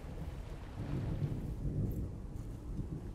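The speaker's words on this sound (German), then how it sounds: "jetzt kommt's Gewitter" A thunderstorm in the horror video game The Evil Within rolls as a low, steady rumble of distant thunder with rain hissing underneath, moderately quiet and without talk.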